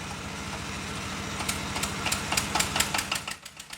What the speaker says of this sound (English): Somehow, the decrepit diesel engines are made to work.